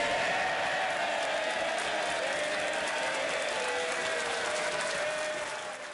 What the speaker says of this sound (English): Ben was applauded at the end of his speech, applause with a political message.